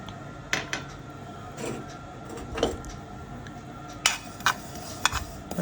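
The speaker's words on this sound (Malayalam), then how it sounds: "വെളുത്ത എള്ള് നമ്മൾ വറുക്കുക." White sesame seeds being dry roasted in a pan, heard as a few scattered spatula scrapes and knocks against the metal over a quiet background.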